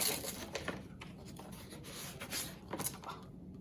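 Packaging around a book being torn open by hand: close, papery rustling and ripping in irregular bursts, with a couple of sharper tearing strokes standing out, no talking.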